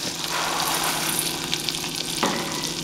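Hot low-carb sunflower seed brittle sizzles loudly and steadily in a pan as vanilla and sunflower seeds go in, with a brief stirring scrape near the end and no talking.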